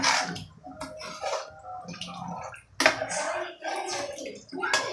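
Water splashes and gurgles into a cooking pot in uneven bursts, with clinking and sloshing close by, while making sambar.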